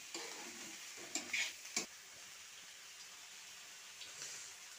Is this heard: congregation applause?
no